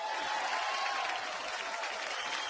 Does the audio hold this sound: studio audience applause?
yes